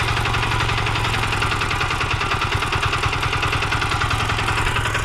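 A Kentavr MB 2060D diesel walk-behind tractor, leaking oil and fitted with a tiller, idles close by in a steady, loud, rhythmic throb that never stops.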